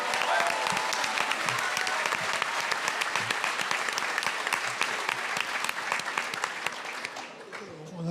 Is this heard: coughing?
no